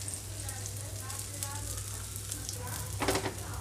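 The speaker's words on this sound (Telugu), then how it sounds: "ఇలాగే మీడియం ఫ్లేమ్లో హీ బాగా కాలనివ్వాలి ఫస్ట్ దోశని" A ravva (semolina) dosa fries in oil on a pan over medium flame, giving a steady close sizzle with small crackles and a faint low hum throughout.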